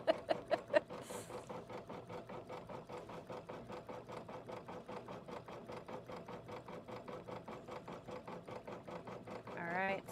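An embroidery machine stitches a zipper in the hoop with a fast, even, rapid-fire needle patter throughout, quiet and close, with a few louder taps at the start.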